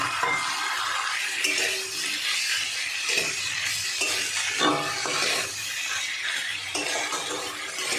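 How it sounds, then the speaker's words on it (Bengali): Potatoes stir-fry with shrimp and snake gourd in oil, a dense, even sizzle with rhythmic spatula scrapes and faint metal clinks, close and steady throughout. "এবার আমি আলুটা দিয়ে দেবো, সব একসঙ্গে ভালো করে কষাবো"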